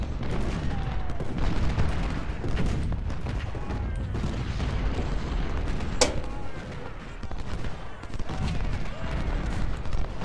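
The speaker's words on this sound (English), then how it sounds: "Spencer repeating rifles." Spencer repeating rifles fired by skirmishers in a Civil War strategy game, a dense, continuous crackle of overlapping shots and booming volleys with one sharp close report, loud and unbroken throughout.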